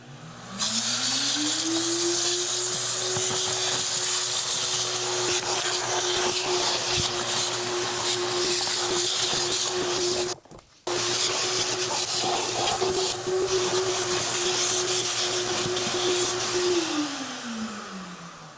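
A Giraffe Tools retractable vacuum cleaner starts with a rising whine, runs loudly and steadily, cuts out for a split second midway, then winds down at the end.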